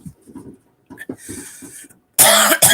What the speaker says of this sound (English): I now successfully have a cough in 2 different decades, 2 different years.